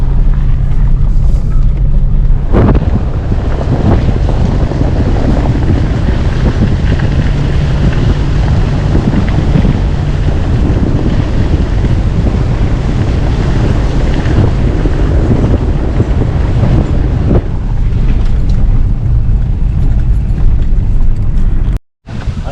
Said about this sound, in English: it's going to be real windy here